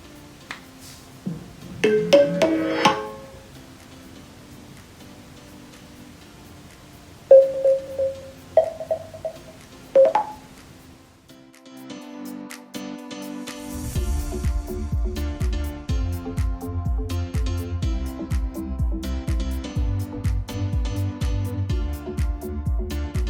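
Anker PowerConf S500 conference speakerphone powering up: a few short chiming tones and pings, then a steady low hum and a brighter melodic jingle that carries on to the end, fairly quiet and heard alone.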